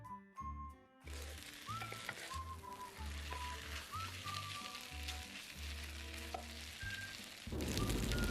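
Glass noodles with egg, soy sauce, oyster sauce and fish sauce being stir-fried in a pan. Soft sizzling under repeated metal spatula clinks and scrapes, with low hum and faint tones in the background.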